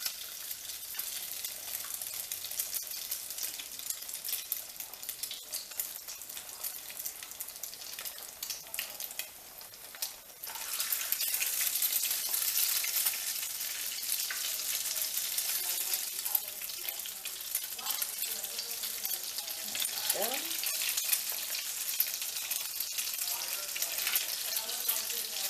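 Egg-dipped eggplant slices for eggplant parmigiana fry in a pan with a continuous crackling sizzle, moderate at first and then growing louder and busier partway through, with a few faint clinks.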